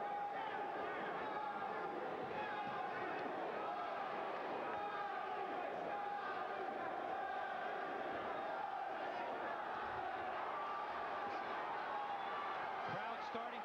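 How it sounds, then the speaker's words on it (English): Boxing arena crowd at a Renaldo Snipes versus Johnny Du Plooy fight, a dense steady roar of many voices with a rhythmic chant rising through it, continuous and moderately loud from start to finish. "Crowd starting to chant, Johnny, Johnny."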